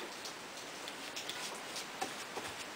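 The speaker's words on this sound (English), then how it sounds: "you might be able to hear it raining because it's pouring down rain" Steady hiss of heavy rain pouring down outside an open garage door, fairly faint and continuous, with scattered soft drips and ticks.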